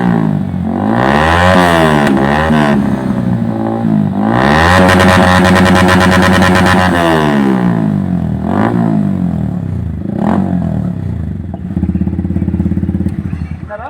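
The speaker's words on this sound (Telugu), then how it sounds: "వాళ్ళ బండి ఇప్పుడు స్టార్ట్ చేస్తాం, ఒకసారి చూడు అది ఎంత సౌండ్ వస్తుంది," A motorcycle fitted with a loud modified silencer is started and revved hard several times, its engine roaring close by and rising and falling in pitch, with a voice talking over it.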